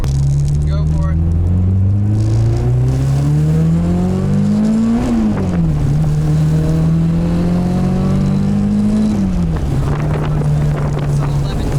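A K-swapped Nissan Cefiro makes a loud, continuous engine drone while accelerating on a tuning pull, rising in pitch, dipping briefly at each shift, then climbing again, with wind rushing over it.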